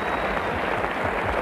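Cricket crowd at a 1977 Ashes Test roars and applauds a boundary, a brief loud wash of clapping and cheering heard as distant broadcast ambience.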